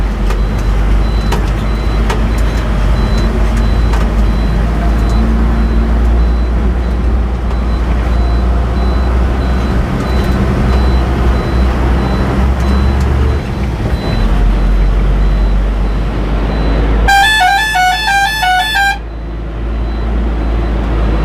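Vehicles drive along a mountain road cut into the cliff high above the Alaknanda river on the way to Badrinath, a steady close engine and road rumble that continues throughout, with a brief horn-like melodic tone near the end.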